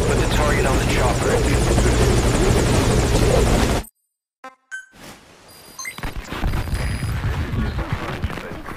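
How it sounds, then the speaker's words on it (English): Helicopter in Metal Gear Solid V Ground Zeroes, a loud close rotor roar that cuts out abruptly, then after a brief silence game sounds and an engine hum return with voices. "Put the target on the chopper."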